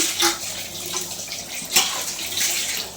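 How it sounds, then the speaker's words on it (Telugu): Water splashes and pours steadily onto tamarind in a cooking pot while mutton paya curry is prepared, with a close, continuous rushing stream and a brief stronger gush partway through. "ఇంకా కొన్ని వాటర్ పోసి చింతపండుని కాస్త పిసికి మళ్ళీ వాటర్ అనేవి మటన్లో వేసుకున్నాం"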